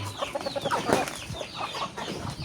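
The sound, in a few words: Joloano breed chickens clucking while being fed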